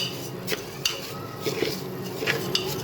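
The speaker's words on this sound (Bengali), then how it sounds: "অল্প অল্প করে দেব, দিয়ে অল্প অল্প করে চালগুলোকে নাড়িয়ে নেব, দিয়ে সাথে পুরো মাখিয়ে নেব।" Biryani rice being stirred in a pressure cooker pot, a spoon scraping and knocking against metal in irregular clatters over a soft background hum, with no talk.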